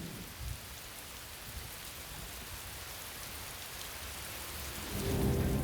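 Steady rainfall hisses throughout, with a low rumble of thunder swelling near the end.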